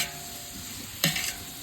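Onions frying in hot oil for a large 15 kg batch of chicken sukka, a steady close sizzle broken about two-thirds through by one sharp utensil scrape and a brief louder burst of crackle.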